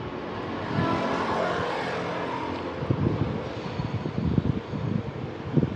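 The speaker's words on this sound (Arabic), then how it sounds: "ادي الموتور اهو" A TATA car's engine running, heard up close as a steady mechanical hum with a slight rise in the first second, then rougher rumbling pulses toward the end.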